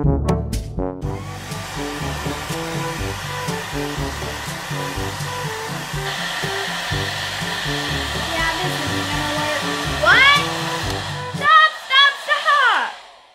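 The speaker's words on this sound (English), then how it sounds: "Wait, you have a hair dryer?" Steady broadband whoosh of a hair dryer blowing in a cartoon, loud and continuous over a musical score, ending with bright chirpy sound effects.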